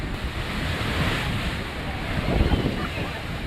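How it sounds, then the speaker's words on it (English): Big ocean waves surging into a harbour in North Devon under strong wind, a continuous loud roaring wash with buffeting gusts on the microphone and a swell peaking toward the end. "So you get one of these big waves coming across."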